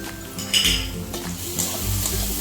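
Spices, including ground cumin, fry in a pan while being stirred, a steady sizzle under scraping and clinking of a metal spoon against the cookware, close and continuous for a couple of seconds.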